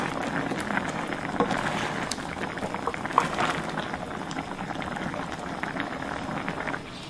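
Constant bubbling sizzle of rice cake in hot broth with green onions, steady crackling hiss close up, no voices.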